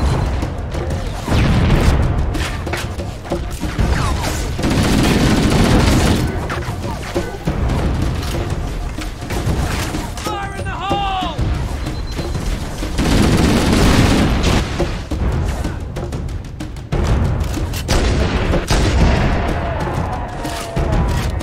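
Sniper rifle gunfire in Halo CE Anniversary on Legend difficulty, loud booming shots with crashes and bursts layered over continuous game noise and music throughout.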